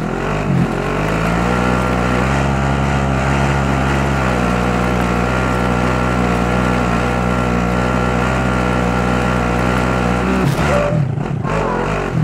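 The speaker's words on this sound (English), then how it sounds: "I'm driving." A vehicle engine drones steadily in Call of Duty Warzone, holding a loud, continuous hum for about ten seconds before it cuts out near the end.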